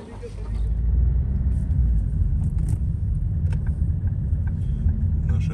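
A car drives through city streets in Riga, Latvia, with a steady low engine and road rumble heard from inside the cabin, light rattles on top and a voice talking over it.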